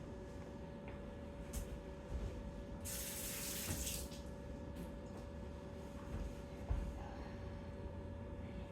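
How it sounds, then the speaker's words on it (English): Tap water runs steadily into a sink while a peeled boiled egg is rinsed for deviled eggs, a soft continuous hiss with a brief brighter splash midway, no voices. "I'm gonna rinse this one off too."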